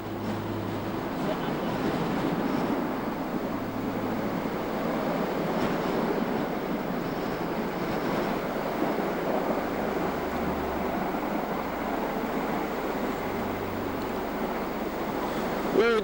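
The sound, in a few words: wind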